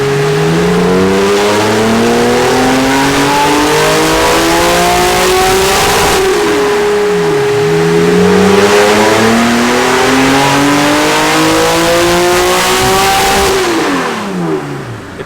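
Nissan Skyline engine on a dyno pull, loud and continuous, revving up through the range in repeated sweeping climbs with sharp drops at each shift or lift-off, no talk over it.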